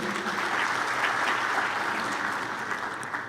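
A congress audience gives a speaker a fresh round of applause at a science meeting on commercial and rural development, a steady, moderately distant patter of many hands that tapers slightly near the end.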